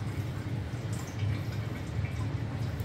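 Waste engine oil drains out during an oil change with a steady, soft trickling and splattering into a container, continuous and fairly close.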